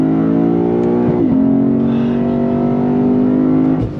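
A Lexus IS 500 F Special Edition V8 sedan pulls hard at full throttle in second gear, a loud steady engine roar climbing in pitch with a brief dip near the start and a lift at the end.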